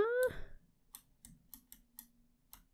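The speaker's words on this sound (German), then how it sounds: "wahrscheinlich hört man meine Tastatur sehr laut klicken" A new LED computer keyboard clicks loudly in a handful of separate, crisp keystrokes spaced irregularly, following a brief tonal game chime at the start, with no talking.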